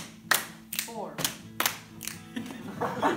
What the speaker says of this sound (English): This Hawaiian hand clap activity can be played as a fun fill-in